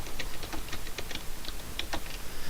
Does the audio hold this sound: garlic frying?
no